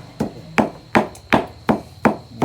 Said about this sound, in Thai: เนี่ยฟังเสียงตำก็รู้นะว่าอร่อยแน่ๆนะครับ